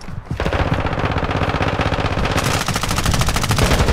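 Sustained rapid automatic gunfire in a video game, a dense, continuous rattle of shots that stays loud throughout with no pauses.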